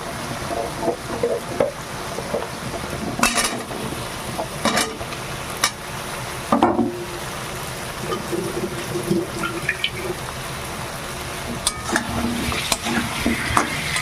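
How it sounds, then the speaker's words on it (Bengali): Chunks of gathi kochu (taro) being stir-fried with spices in a pan, a low sizzle under repeated scraping strokes of a spatula and occasional clatters, fairly close. "এবার আমি কচুগুলো দিয়ে ভালো করে মশলার সঙ্গে কষিয়ে নেব"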